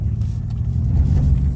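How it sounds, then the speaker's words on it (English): An electric Ford Mustang gives off a steady low synthetic rumble like an engine drone, close and continuous, with a slight swell in loudness partway through and no voices. "Let's hear the car sound then."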